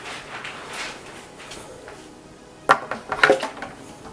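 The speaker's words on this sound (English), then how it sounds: "And we'll take our lid here, take this off." A lid is pulled off a glass jar of fermenting mead, a brief cluster of sharp clinks and knocks, close and moderately loud, following a quieter stretch of faint handling noise.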